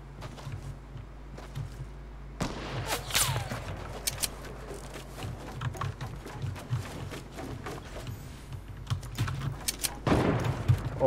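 Gunfire from a squads battle royale video game rattles in quick bursts and single shots over a low hum, with a louder burst near the end.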